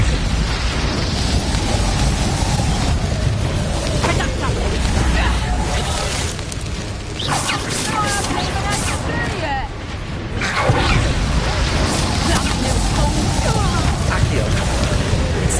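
Incendio fire spell cast in Hogwarts Legacy, heard as a burst of whooshing, crackling game effects among booming impacts and rumble, with a voice calling out over the fighting.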